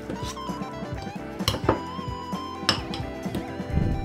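A spoon clinks and scrapes in a bowl while fruit fly culture medium is mixed with powdered sugar, with irregular knocks over steady background music.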